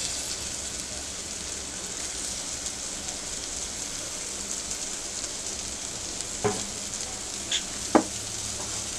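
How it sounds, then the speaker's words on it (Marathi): Cauliflower sautéing in a spiced pan for masale bhaat makes a constant hissing sizzle, steady and fairly soft, with a few sharp utensil clinks near the end and no voices. "फ्लावर घालून आपण चांगली परतून घेऊया"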